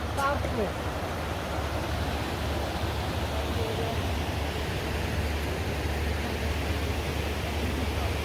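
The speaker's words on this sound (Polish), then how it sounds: "Ładny wodospad." A waterfall on Lake Garda, seen from a passenger boat, makes a steady wash of rushing water, broad and continuous, with boat and wind noise blended in.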